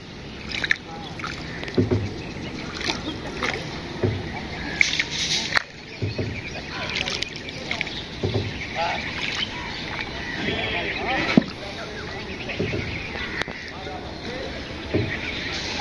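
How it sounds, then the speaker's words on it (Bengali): A rowboat being rowed along a river, with irregular soft splashes and paddle strokes under broad water and wind noise, faint birds in the background and a voice speaking at times. "এই তো দাদা নৌকা বাইতেছে, অনেকদিন পর নৌকায় উঠলাম"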